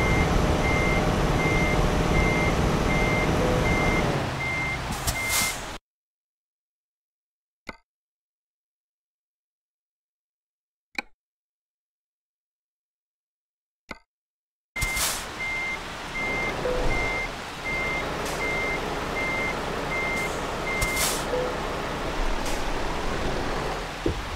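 A heavy truck backs up in Euro Truck Simulator 2, its reversing alarm beeping steadily over loud engine rumble. A long silent gap is broken by faint clicks before the beeping and engine return.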